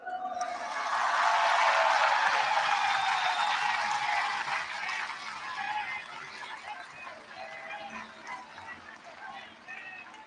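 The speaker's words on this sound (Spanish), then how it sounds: "Otro aplauso" A large audience claps steadily at Mexico's fourth government report in 2022, a dense, loud wash of applause that swells early and then eases to a slightly softer, sustained ovation.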